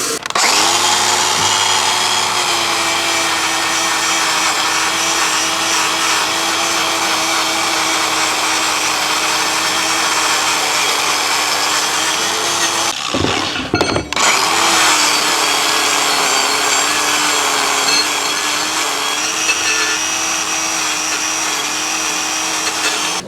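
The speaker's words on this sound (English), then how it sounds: "Probably going to take the wire brush with the grinder to this." An angle grinder fitted with a wire brush scrubs a Columbian 206 vise during restoration, a loud steady whine with a harsh grinding texture, briefly cutting out near the middle before spinning back up.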